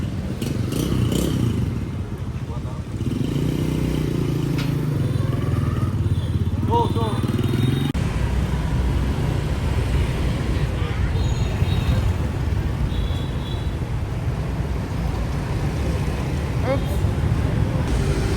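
Small, worn motorcycles on a test ride in Vietnam, brakes not working, engine drone and road rumble continuous and close throughout, with rattling clatter and a voice speaking over it.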